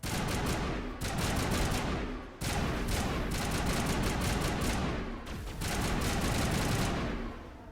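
Rapid automatic gunfire hammers at Geth Troopers in the sci-fi shooter Mass Effect, three long sustained bursts of loud, dense shots separated by brief pauses.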